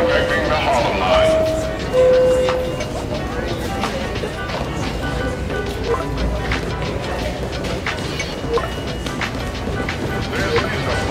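Subway train interior in Spider-Man: Miles Morales, a steady rumbling rail ride with clacks and rattles running beneath a station announcement and character voices that talk over it for most of the stretch.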